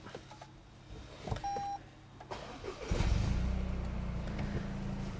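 A short electronic beep, then a Toyota GR Yaris engine with an aftermarket valved exhaust cranks and catches, settling into a steady low idle nearby, valve closed.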